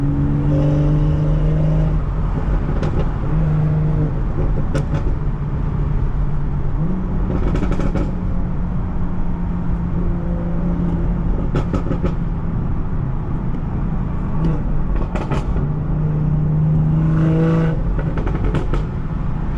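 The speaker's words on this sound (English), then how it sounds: "Yo, these pops though are diff." A car engine hums and revs steadily from inside the cabin, punctuated by several sharp crackling exhaust pops in short bursts.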